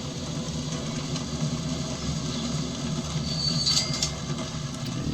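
A loaded train rolling along in the Transport Fever 2 simulation game, a steady continuous rumble of engine and wheels with faint high squeals near the end, no voices.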